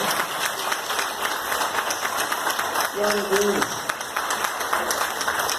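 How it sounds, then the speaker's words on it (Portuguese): A church congregation applauding during a Holy Supper service: continuous clapping from many hands, with a voice speaking over the applause. "Você aplaude"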